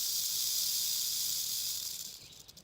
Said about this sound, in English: Got his rattle going too.